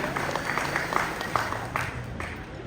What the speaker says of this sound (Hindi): इनकी अच्छाई और इनकी मेहनत के लिए एक जोरदार ताली हो जाएगी